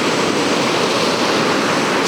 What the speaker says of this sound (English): We've got some nice waves hitting it